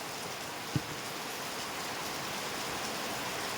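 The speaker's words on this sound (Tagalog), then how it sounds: "Lagi po tayo mag-ingat dahil lumakas pong yung ulan" Heavy rain falling outdoors, a dense, steady wash of hiss that fills the whole clip with one brief thump near the start, no voices.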